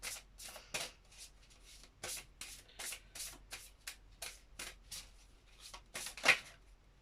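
Tarot cards are shuffled and drawn by hand in a quiet room. The riffles and shuffles come as soft bursts in an irregular rhythm, with one sharper snap near the end.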